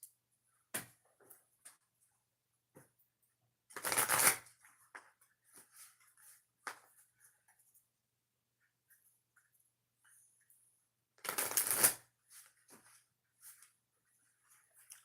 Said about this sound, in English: Two shuffles, Virgos.